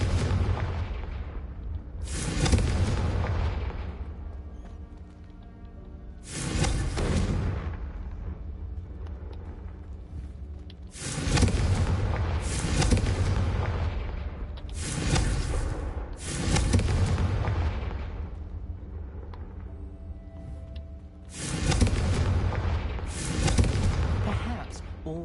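Confringo fire spell blasts in the game Hogwarts Legacy, six loud booming bursts, each followed by a rolling rumble that fades over a few seconds.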